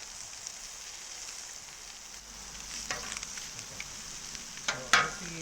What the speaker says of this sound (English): So let the asparagus cook with the scallops.